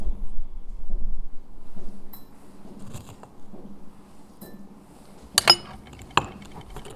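Spoons scoop and scrape dried burdock root, giving scattered soft rustles and a few sharp metallic clinks, close up and otherwise quiet.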